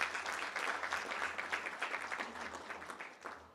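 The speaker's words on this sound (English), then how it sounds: "Let's give him a big round of applause." Audience applause at an inaugural ceremony for an accountants' chapter in British Columbia, a room of people clapping steadily at moderate level, gradually thinning and fading toward the end.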